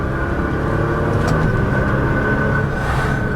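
A manual Toyota Supra accelerating hard, its loud, steady engine drone and road roar filling the cabin without a break.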